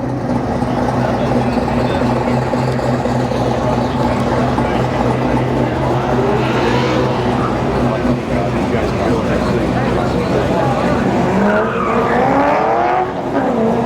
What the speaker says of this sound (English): There's Detroit Speed's testing car, which is brilliant, fastback right there.